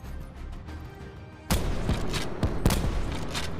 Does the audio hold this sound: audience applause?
no